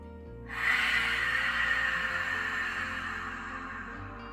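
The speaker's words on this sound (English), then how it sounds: "it sounds like Darth Vader breathing" A single long, breathy exhale forced through a constricted throat, a raspy hiss that starts abruptly and fades slowly.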